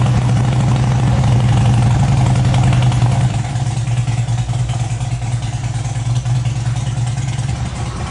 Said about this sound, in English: Let's start a bike